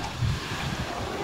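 Steady wind from a typhoon rushes and buffets the microphone in a brief, loud, continuous roar with no voices.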